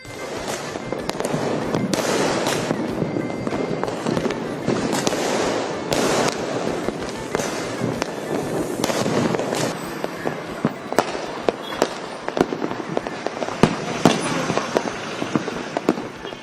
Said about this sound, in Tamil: திருச்சி மாநகர் முழுவதும் விண்ணில் வானவெடிகள் வெடித்து சிதறி இரவை வண்ணமயமாக்கியது